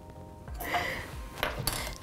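A spoon stirs vanilla into New York cheesecake batter in a bowl, making soft scraping strokes with occasional light clinks against the bowl, close and fairly quiet.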